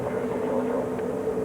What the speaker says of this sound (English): We're taxiing out at this time at Gatwick for takeoff